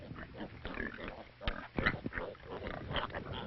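Pigs on a rural Chinese farm grunt and snort repeatedly at close range, with a voice talking over the animal sounds.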